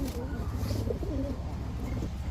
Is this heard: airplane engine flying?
no